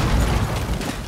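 Explosion in the game Rainbow Six Siege, heard as a dense, rumbling low boom that rolls on steadily for about a second with no clear attack, loud and close.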